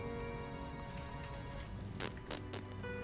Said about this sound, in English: Welcome to the desert rain.